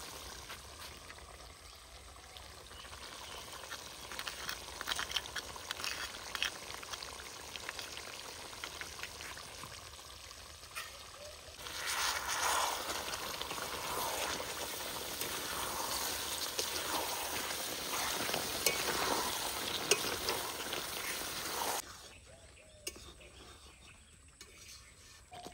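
Yogurt added to chicken darbari frying in a pan, a soft steady sizzle and bubbling that swells louder for several seconds midway, then drops back to a quieter hiss.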